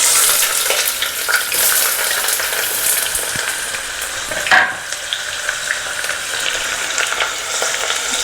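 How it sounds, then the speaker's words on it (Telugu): Chopped onion frying in hot oil inside a pressure cooker for chicken pulao, a dense, close, continuous sizzle with light stirring scrapes and one brief louder clatter midway. "సో ఇలా ఆయిల్ బాగా వేడయ్యాక ఆనియన్స్ వేసేసుకోవాలి."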